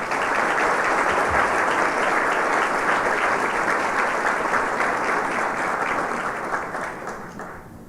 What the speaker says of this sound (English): Please join me in giving these individuals and groups a round of applause.